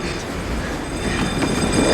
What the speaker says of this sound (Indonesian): memanjat ke atas atap kereta yang lagi melaju kencang